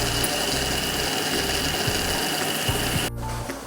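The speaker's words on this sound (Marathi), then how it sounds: "चिकन शिजतं आहे तोपर्यंत मी मिक्सरला मसाला वाटून घेते" An electric kitchen mixer grinds an onion and coconut masala with a loud, steady whirring drone that cuts off abruptly near the end.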